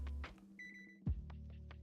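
A stove timer beeps in a kitchen during a braised short rib cooking class, one steady electronic tone at moderate volume, followed by a thud and scattered clatter.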